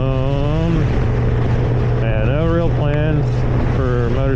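A motorcycle riding along a one-lane road, its engine drone shifting up and down in pitch through gear changes, heavy wind rush over the microphone, with someone talking over it.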